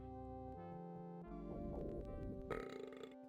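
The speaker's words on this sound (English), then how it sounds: "It's a good burp. I'll let the burp play." A long, drawn-out cartoonish burp from a video game, rumbling and rising in pitch over a few seconds before ending abruptly.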